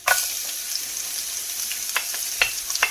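Onion with jaggery and ginger-garlic paste hisses steadily in oil left over from frying chicken, a bright close sizzle broken by a few light stirring clicks, with no voices.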